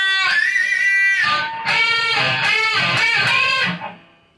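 A distorted electric guitar plays a rapid lead run from a solo, bright sustained notes ending in a short fade.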